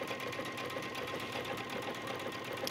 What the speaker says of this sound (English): I'm just gonna sew it about a 1/2 inch here.